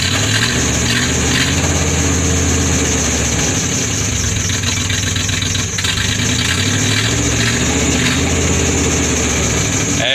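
A pickup truck with turndown exhaust tips idles steadily as it warms up, a continuous low rumble that stays close and even throughout.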